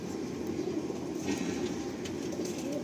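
A pigeon at a pigeon sale gives a low, soft, continuous coo close by, with faint background noise.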